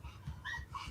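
A puppy whimpers softly in a brief run of faint, high whines, heard close up and alone.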